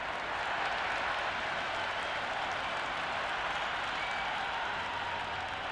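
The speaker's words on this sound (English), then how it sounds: "The crowd love that one." Steady, dense applause from a large cricket crowd at a Big Bash League match between Sydney Thunder and Hobart Hurricanes, cheering a boundary four as a continuous wash of clapping without a break.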